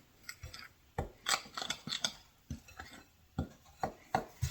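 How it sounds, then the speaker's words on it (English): Garlic and smoked paprika being stirred into a burger mix for a pretzel bacon pub burger, giving a run of sharp clinks and wet scraping strokes in an irregular rhythm, close up, with no talk. "Stir it all in."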